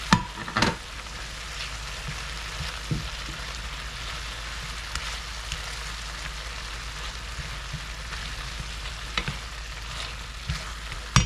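Butter sizzles in a pan with garden beets, a steady close frying crackle with a few sharper pops and stirring clicks throughout, no voices.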